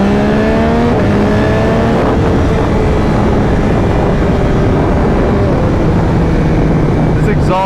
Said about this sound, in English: This exhaust sounds awesome.